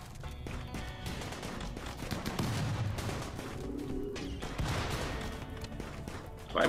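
Bursts of gunfire in the video game RimWorld crackle in rapid, uneven volleys, with a busy layer of explosions and effects throughout.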